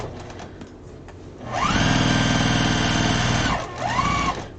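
A sewing machine stitches the short side of a quilt border, starting with a few light taps, then a steady whirring run of about two seconds, and ending with a brief second burst.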